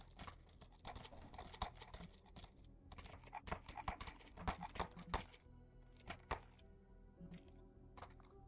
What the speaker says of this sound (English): Take this horse here.